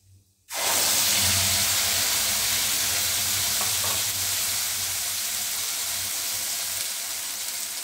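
A ground paste of tomato, green chili and ginger hits hot oil for rajma, bursting into a loud, close, continuous sizzle that starts abruptly and holds steady, easing only slightly as it goes on.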